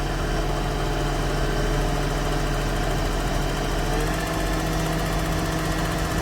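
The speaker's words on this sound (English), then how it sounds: "So my tractor is in neutral, and he is pulling me back with those traction tires" A lawn tractor's engine idles steadily in neutral while another tractor with traction tires pulls it backward, a loud, continuous low rumble with a faint vibrating hum that holds constant throughout.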